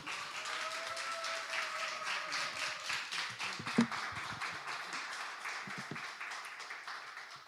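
A church congregation at a Sunday worship service claps steadily to welcome the pastor, a dense, continuous patter of many hands filling the room, with a faint tone and a few scattered knocks.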